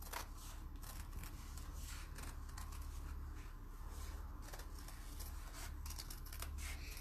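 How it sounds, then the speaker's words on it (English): Scissors cut around an appliqué fabric shape in a run of quiet, close snipping strokes, steady and repeated with small pauses. "So I'm going to cut round this shape now."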